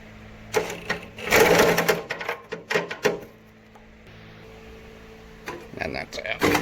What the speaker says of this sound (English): take your impact driver with a whole heap of extensions and a uni, you can actually get in there to crack them with this